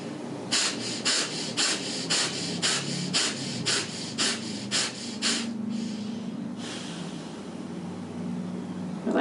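Deep rhythmic yoga breathing, about a dozen quick forceful exhales through the nose in a steady pulse, then a slower, longer breath, all close and clear with no talk.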